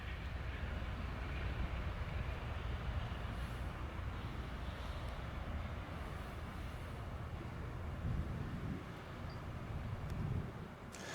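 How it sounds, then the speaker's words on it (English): An Amtrak passenger train pulled by a P42 diesel locomotive passing a commuter rail station, with a steady loud rumble and wheel roar that keeps on for the full length and fades slightly near the end. "This train was pulled by the iconic Amtrak P42-8."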